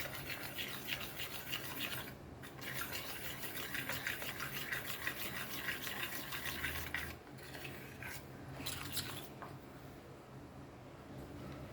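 Curry masala paste being mixed by hand with water in a bowl for a Goan prawn curry, giving a steady wet rubbing and squishing sound that runs continuously with brief pauses.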